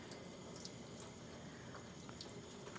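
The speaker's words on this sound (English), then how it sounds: "Just kicking off that abrasive or rinsing off that abrasive." Water runs steadily over crystal to rinse off sandblasting abrasive, a faint, even hiss of spray that continues without a break.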